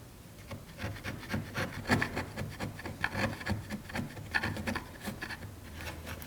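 A sander works Bondo filler on a damaged wooden interior window sill, giving a close, steady rubbing rasp that pulses with repeated strokes and a low motor hum underneath, with no talking.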